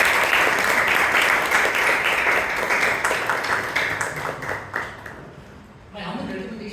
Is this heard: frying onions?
no